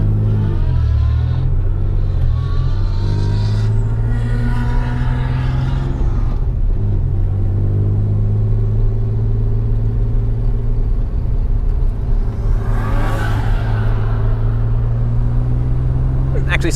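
A modified car engine, likely one of the cars lined up at a roll racing event, idles with a deep steady rumble and occasional revs close by, while people talk over it.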